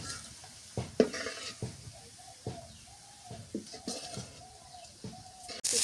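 Fried onions (beresta) tipped into a pan of eggs for an egg korma, with steady sizzling, scraping stirring strokes and clinks of a utensil against the pan, plus a few chirpy high tones in the background.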